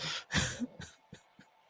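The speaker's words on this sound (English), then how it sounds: "we just cough over our own drops" A person coughs over a podcast audio drop, with a short burst of coughing and throat noise near the start followed by a few softer, scattered breathy sounds, close and fairly quiet.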